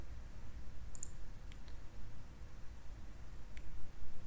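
Computer mouse clicks, a few soft, sharp ticks spaced unevenly over a constant low background rumble, close and quiet with no talking.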